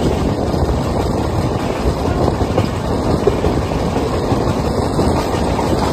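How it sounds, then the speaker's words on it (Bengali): Two trains, including the Jammu Tawi Express, run side by side, producing a loud, continuous rumbling roar of wheels and carriages with a steady rattle, no voices heard. "পাশাপাশি 2 ট্রেন পাল্লা।"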